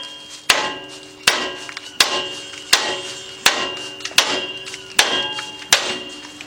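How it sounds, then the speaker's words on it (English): Repeated sharp metallic hammer blows on a front strut joint of an SUV, ringing out at a steady rhythm, about nine strikes, loud and close with a bright ring after each hit. "Then you want to take your hammer"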